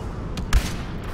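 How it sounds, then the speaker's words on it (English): A single heavy sniper rifle shot in Star Wars Battlefront, one loud sharp blast with a deep boom, preceded by a fainter distant report against steady game background noise. "Sniper rifle does quite a bit of damage."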